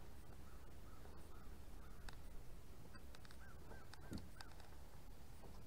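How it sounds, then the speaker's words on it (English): Crows caw outdoors at a campsite in Ocala, Florida, a string of repeated calls rising over a steady background hiss, moderately distant, with no talking. "You can hear the crows out there."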